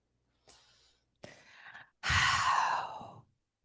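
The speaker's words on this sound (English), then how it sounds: "That was me breathing." A person takes deep breaths alone in quiet surroundings: two short, soft inhalations followed by one long, loud, close exhale lasting over a second.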